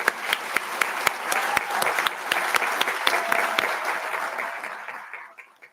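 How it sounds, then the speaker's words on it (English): Audience applause at a July 4th citizenship ceremony, with some sharp individual claps standing out over the crowd's clapping before it fades away at the end. "That's worth a round of applause."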